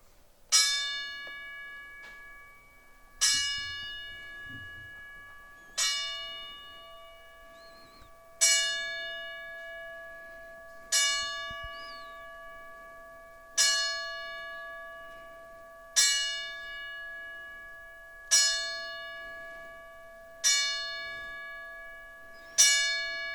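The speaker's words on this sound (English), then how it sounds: "we're going to do a 10-bell salute for our fallen brother" A bell tolls ten times at a slow, even pace as a memorial salute for a fallen wrestler at a live pay-per-view event, each strike ringing clearly and decaying before the next, with no talk over it.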